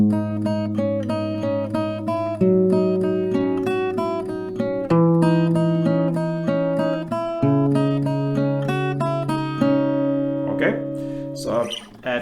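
Electric guitar plays the melody of a song's second drop, clean sustained single notes over the same chords, rising and falling in a steady, even phrase with one short pause near the end.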